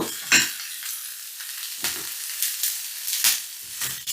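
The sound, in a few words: onions stir-frying in oil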